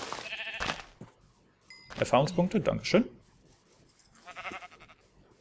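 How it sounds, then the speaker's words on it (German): Sheep bleating in Minecraft, a few short, close bleats sounding in bursts while a voice talks over the game audio. "Dann töte ich mal ein paar Schafe, wa?"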